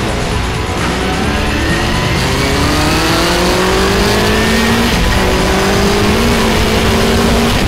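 A race car pulls away on the Croix-en-Ternois circuit during engine run-in, spinning its wheels. The engine holds a loud, continuous roar that climbs steadily in pitch, with tyre and mechanical noise blended in.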